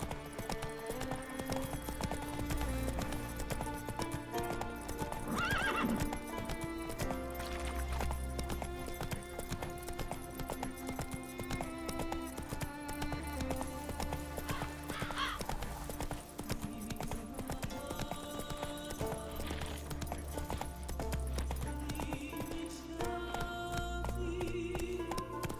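A horse gallops in The Witcher video game, its hooves clip-clopping in a steady rapid rhythm throughout, set against continuous game music.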